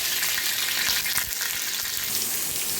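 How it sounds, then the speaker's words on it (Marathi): Green chillies frying in hot oil on an iron griddle pan, a loud, dense, steady sizzle up close. "आता तेल चांगलं तापलंय त्याच्यात टाकलंय मिरच्या"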